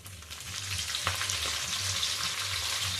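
A couple of sprigs of curry leaves hitting hot oil for a fish curry, a loud close crackling sizzle that runs steadily with a sharp burst near the start, no talking.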